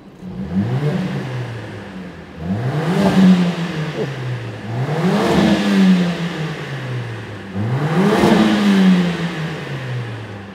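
A wagon's engine is revved four times in a regular rhythm, each blip climbing and falling back, loud and close. Pops on the overrun are not clearly distinguishable.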